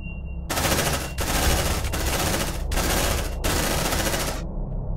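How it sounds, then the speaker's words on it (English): Sustained automatic gunfire shooting an enemy in the Aliens Dark Descent video game, four long loud bursts of rapid rounds separated by brief pauses. "Shouldn't we just shoot this guy?"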